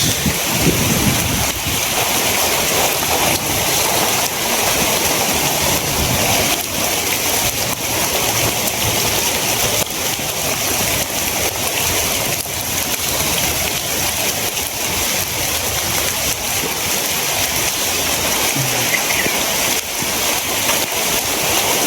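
Heavy wind and rain roar continuously, with low rumbles of thunder rolling underneath, loud and unbroken throughout.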